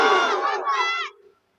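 A crowd at a gathering answers a call for takbir with a loud, brief shouted chant of Allahu Akbar, many voices together for about a second before fading out.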